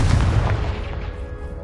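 A Confringo spell blast in the video game Hogwarts Legacy, a single loud, booming explosion that hits at once and rolls off over about a second and a half.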